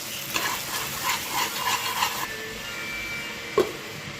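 Salt and ginger-garlic paste mixed in a pan for a hotel-style paneer dish: soft scraping stir strokes over a low sizzle for about two seconds, then quieter hiss with one brief knock near the end.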